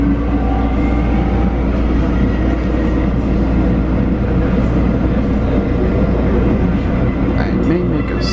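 Onboard an RTD G Line commuter train heading westbound, a loud continuous rumble with rail hum and faint clatter, while a voice talks over it.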